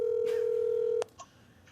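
Telephone dialing tones ring out as a call is placed: one long steady tone, then a sharp click and a few brief, fainter beeps, close and clear without speech.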